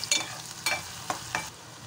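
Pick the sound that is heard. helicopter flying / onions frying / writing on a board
onions frying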